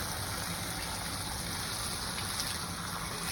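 Water gushes steadily from a filling tank, a dense continuous rushing hiss at even loudness throughout, with no voices over it.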